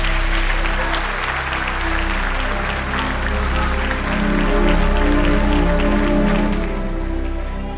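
A church congregation claps loudly and continuously, a dense, roaring wash of hands sustained throughout, with organ or keyboard tones humming underneath.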